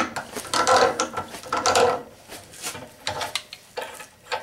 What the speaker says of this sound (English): They ratchet a little harder than a DeWalt.